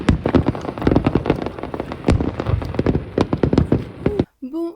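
Crackling bursts and sharp pops from a fireworks display, dense and rapid like heavy rain, loud and near with a voice breaking in at the end.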